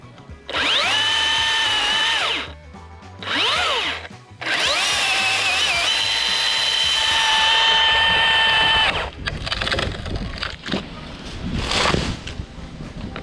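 A chainsaw cuts a notch into a backyard locust tree, loud revving bursts rising and falling with brief idle gaps, then rougher cutting noise and crackling wood near the end.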